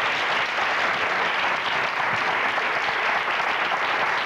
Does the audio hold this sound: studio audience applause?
yes